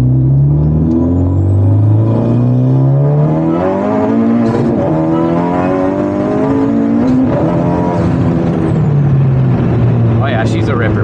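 A modified 500HP Honda Civic Type R on a back road, its engine revving and climbing through the gears with loud rising and falling tones, close and continuous.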